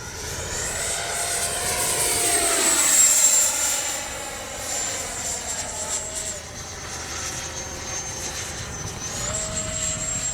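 An FMS 80mm F-86 Skyblazers RC electric ducted-fan jet flies overhead with a loud, whooshing whine that swells and recedes as it passes, its pitch sliding with each pass.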